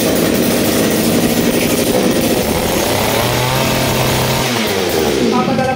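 A 63cc earth auger engine runs loud and close during a test, a continuous buzzing two-stroke drone with shifting pitch that drops near the end.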